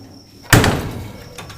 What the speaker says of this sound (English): the hood latches up, or the deck lid latches up real.